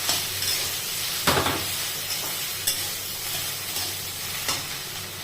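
Okra (bhindi) being sautéed in a hot pan, a steady close sizzle with scraping stirs and a few sharper utensil knocks against the pan, no voices.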